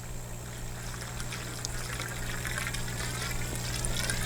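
Water from a gallon bottle flows steadily out the far end of a garden hose while compost tea is prepared, a continuous close trickle and splash that grows slightly stronger toward the end.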